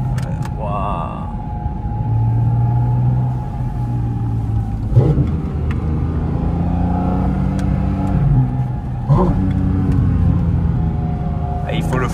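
A Porsche accelerating hard around a gymkhana course between cones, its engine rumbling and surging in repeated revving waves, moderately close, under ongoing talk from people in the car.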